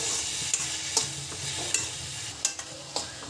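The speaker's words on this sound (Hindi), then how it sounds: "अब इस टमाटर को डाल के आप भी अच्छे से भूनना है, ये अच्छे से गल जाए।" Tomatoes fried and stirred in a pan for urad dal, with a steady sizzle and sharp spoon scrapes and clinks against the pan at irregular intervals, close and fairly quiet, with no talking.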